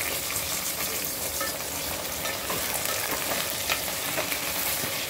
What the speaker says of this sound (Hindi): प्याज लाइट ब्राउन हो गई, अब हम इसमें डालेंगे आलू।